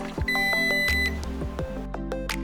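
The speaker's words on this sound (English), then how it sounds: "After approximately 10 seconds of whisking, the beep will sound and the light will turn off." A Cuzen Matcha Maker Pro gives an electronic beep after its magnetic whisk finishes, a few short bright tones standing out over a steady low mechanical hum, close and clear.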